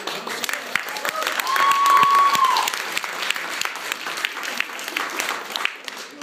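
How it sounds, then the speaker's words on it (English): Audience applause for the governor of Minnesota at a gathering of Rochester teens, a sustained wash of clapping that swells and then carries on, with voices and a brief tone rising through it. "another round of applause to the governor of the great state of Minnesota"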